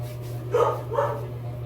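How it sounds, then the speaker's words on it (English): Two short dog barks a moment apart, muffled and somewhat distant, over a steady low electrical hum. "Sorry if you hear my dog."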